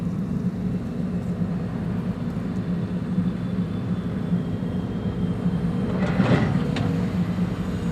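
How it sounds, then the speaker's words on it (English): A Boeing 747 landing on the Polderbaan runway at Schiphol, a steady low rumbling roar heard from a distance that swells slightly toward the end, with no talk. "The first of 3 747s in today's show has arrived"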